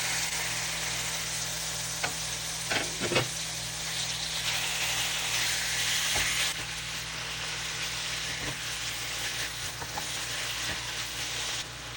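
Garlic, tomato, ginger and meat sauté in a pan with a steady, close sizzle, broken by several sharp scrapes and clinks of a utensil stirring against the pan.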